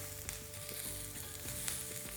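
Chillies roasting in a hot pan sizzle and crackle steadily up close, with occasional scraping stirs and no talking.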